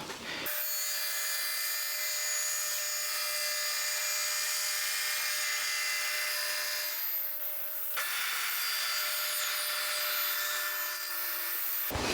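Power tool cutting a groove across a wooden board while building a homemade Moxon vise, a loud continuous high-pitched whine with a brief change in pitch partway through, running alone without talk.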